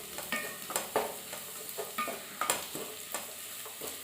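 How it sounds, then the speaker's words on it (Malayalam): Coriander powder being stirred into a beef curry masala in a pan, with a steady run of scraping, tapping spoon strokes over a faint sizzle, close and alone without talk. "മല്ലിപ്പൊടി ഇട്ട് കഴിഞ്ഞാൽ നന്നായിട്ടൊന്ന് മൂക്കുന്ന വരെ മിക്സ് ചെയ്യണം."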